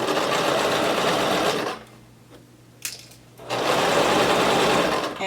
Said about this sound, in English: now we're going to keep sewing up this pocket at a 5/8 of an inch seam allowance